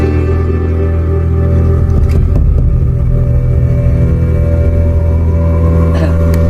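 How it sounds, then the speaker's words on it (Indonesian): A big truck rumbles past on a busy city street, a loud, heavy low engine drone that swells as it goes by, with a voice talking faintly beneath it. "Aduh ini truk gede Pak"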